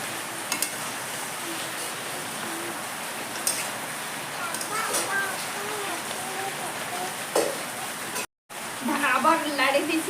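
Chicken with potatoes frying in its own juices under a lid in a village-style kitchen, giving a steady soft sizzling hiss throughout with occasional light clinks, faint voices in the background and a brief dropout near the end.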